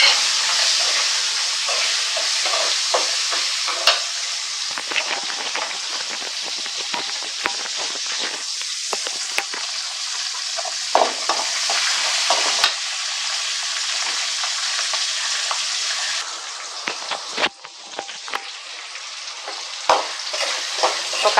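Green chillies fry in hot oil in a pan for mango rice, a steady close sizzle and hiss with scraping stirs and small crackling pops running throughout, no talk.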